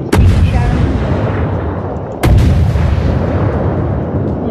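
Warship naval guns firing in World of Warships, two heavy booming salvos about two seconds apart, each followed by a long rumbling roll that fills the background.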